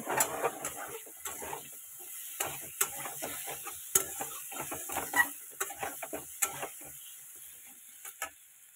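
Ground spices, including cumin powder, being sautéed in a pan, with repeated sharp scrapes and clacks of a spatula over a faint sizzle, in an uneven rhythm that thins toward the end, without speech.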